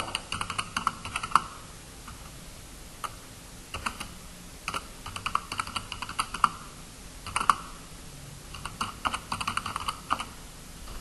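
A page name being typed on a computer keyboard, with close, crisp key clicks arriving in quick bursts separated by short pauses.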